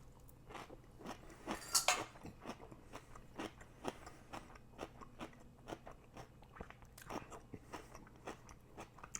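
Close-up crunchy chewing of homemade sauerkraut, with one loud bite followed by steady, moist crunching chews in an irregular rhythm.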